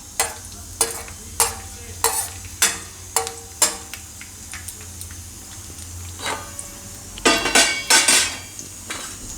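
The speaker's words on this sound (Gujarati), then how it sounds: "તો ઘી ગરમ થાય એટલે એમાં આપણે નાખીશું લસણ." Garlic frying in hot ghee in a pan, a spoon striking and scraping the metal in a rapid series of loud clanks over a continuous soft sizzle, with a busier cluster of knocks near the end.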